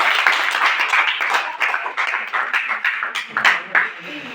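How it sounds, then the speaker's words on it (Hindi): An audience at a quiz contest claps for contestant Jamuna, a dense burst of hand claps from a nearby crowd that keeps going throughout, loud and uneven, with no talking over it. "एक बार जमुना के लिए ताली मार दीजिए"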